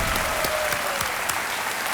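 Studio audience applause on the KBC quiz show, a brief, even burst of many hands clapping at moderate volume, continuous throughout.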